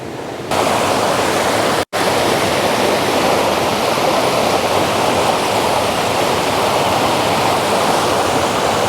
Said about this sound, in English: the waterfall sort of cascading down, and then leading up to that main waterfall in the background